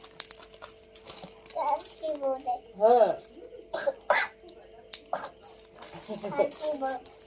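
Several short coughs and throat-clearing sounds break up scattered talk, with a faint background hum underneath.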